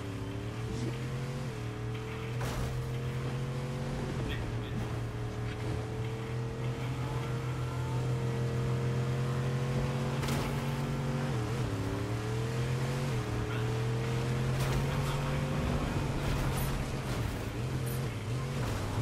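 Honda cars driving in Fortnite, a steady engine drone with shifting harmonic pitch that rises and dips as the vehicles accelerate, loud and continuous throughout with no talk over it.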